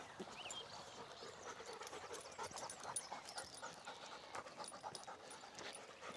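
A Labrador pants quickly and rhythmically, close and quiet, with a faint whimper and no talking.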